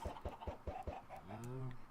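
Chickens in a farming game cluck in a quick, rhythmic series of short clucks, fairly near, followed by a drawn-out cackle, with a voice talking over them.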